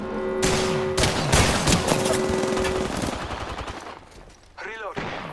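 Sustained automatic gunfire in the battle-royale video game Apex Legends, loud bursts of rapid shots packed together for several seconds, then thinning out with a few sharper reports near the end.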